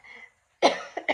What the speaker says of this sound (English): I've been dealing with this cough